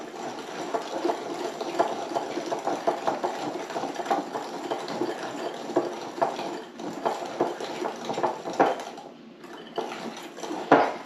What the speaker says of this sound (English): I'm going to whisk these 3 things together. So I have the sugar in here, the butter in here, and the eggs.